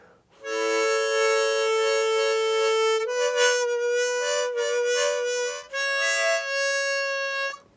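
A beginner plays single notes on a harmonica, alternating blow and draw, sustained buzzy reedy tones with a few note changes and brief breaths between them, close and fairly loud with no speech.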